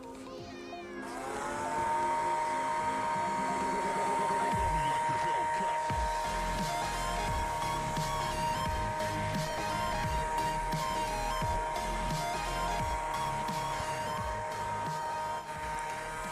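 A homemade hair dryer switches on and runs with a steady, loud whirring motor hum and airflow hiss that hold for many seconds, with some background noise but no clear talking.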